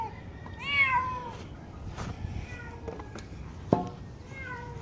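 A frightened cat stuck in an emptied swimming pool meows several times, the calls rising and falling over steady background noise, with a sharp knock partway through.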